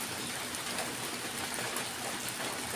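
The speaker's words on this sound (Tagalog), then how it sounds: "umulan na naman tapos paggabi, uulanin din." Steady rain pours down without pause, a dense even hiss of drops on surfaces that fills the whole stretch with no voices.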